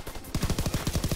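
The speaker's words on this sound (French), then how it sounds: "oula, ça tire dans le dos" Rapid automatic fire from a PPSh-41 submachine gun in the video game Call of Duty WW2: a short burst at the start, then a steady rattle of about a dozen evenly spaced, close, loud shots.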